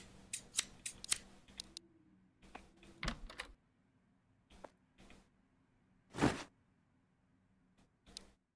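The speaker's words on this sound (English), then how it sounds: "Cut the scissors." Scissors snip in a quiet room: a cluster of quick crisp cuts at first, then scattered single snips and one louder, longer slicing pass, with pauses of near silence between.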